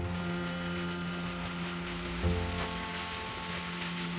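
Soya granules frying in a pan over medium-high heat for a veg keema, a steady close sizzle with steady harmonic hum underneath and a brief louder scrape of stirring midway.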